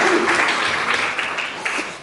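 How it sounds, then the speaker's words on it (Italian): An audience at an Italian talk applauds continuously, a dense wash of clapping hands that stays loud and even throughout the short stretch. "gli facciamo un bel applauso di incoraggiamento"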